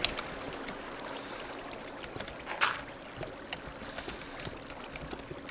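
Running water trickles steadily in Minecraft, a soft continuous wash and babble with a brief brighter splash partway through, no voices.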